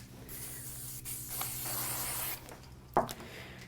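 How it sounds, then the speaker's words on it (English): Bursts of hissing spray from an aerosol can of spray glue, close by, with short pauses between them and a small knock near the end. "I'm going to pop it on with a little bit of spray glue."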